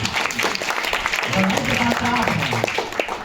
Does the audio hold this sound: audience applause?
yes